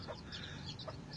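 Several chicks or chickens cheep and cluck softly in quick, overlapping calls against a low background hum.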